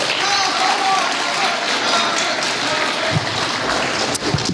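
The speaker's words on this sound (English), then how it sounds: "Let's get an applause for this man." Convention panel audience at Magfest 2020 applauding, a dense, steady wash of clapping that fills the room, with a few louder claps near the end.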